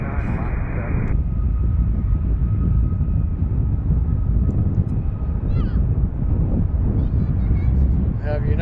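An airliner takes off from runway 19 at Reagan National (DCA) in Washington, heard from Gravelly Point: a steady, loud, broadband jet roar fills the whole stretch while voices talk over it.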